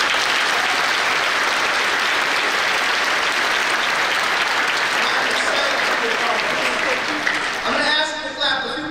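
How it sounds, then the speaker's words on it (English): Sustained audience applause at an 8th grade bridging ceremony at a STEM academy, a dense steady crowd clapping for about eight seconds before a voice begins speaking as it fades. "So let's clap for tonight's event."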